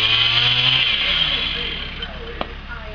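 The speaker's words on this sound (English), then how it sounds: "I don't know if you can hear me over the chainsaw or not." A chainsaw cuts through tree branches, its engine whining loud and steady before easing down, with a short crack near the end as wood gives way; a voice is partly buried under the saw.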